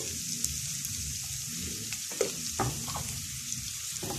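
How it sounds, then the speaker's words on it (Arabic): Onion frying in a pan as the base for a lentil dish, a soft, steady sizzle with occasional crackles and faint stirring clinks, fairly quiet and with no talking. "بصوا يا حبايبي البصله اهي خلاص دخلت على تحميره اهي"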